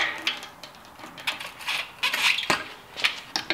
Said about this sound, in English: So I'm just going to throw the chain on. Sprocket here real quick.